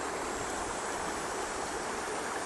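A stream runs high after heavy rain, covering the rocks in its bed, producing a steady, dense rushing wash of water that is close and continuous, with no talk.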